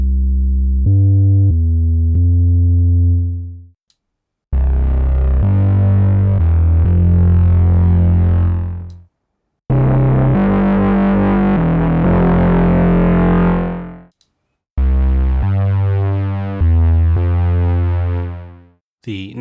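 Four different synthesized bass sounds from the Murst Instruments Stone plugin play one after another in separate short phrases, ranging from a clean tone to gritty distorted textures, each ending in a brief silence.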